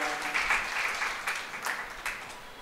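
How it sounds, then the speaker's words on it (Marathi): Audience clapping at a Marathi book launch ceremony, a moderate, fairly distant burst of applause with individual claps standing out, fading slightly toward the end. "यासाठी आपण टाळ्या वाजवून या पुस्तकाचं स्वागत करूया"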